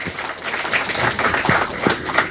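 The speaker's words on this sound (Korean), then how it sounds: "박수 한번 보내주시면 감사하겠습니다" An audience applauds at a book launch event in Daegu, a dense, even wash of many hands clapping at a steady level for a couple of seconds with no speech over it.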